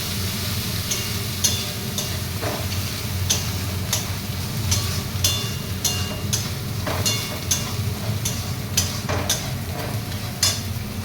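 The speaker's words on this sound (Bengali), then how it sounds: "এবার লবণ হলুদটা ভালো করে কষিয়ে নেব।" Salt and turmeric sautéing with spices in a hot pan, a steady sizzle under repeated scraping and clacking strokes of a stirring spoon, close and fairly loud throughout.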